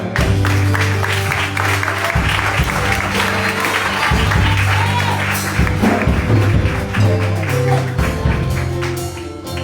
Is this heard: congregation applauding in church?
yes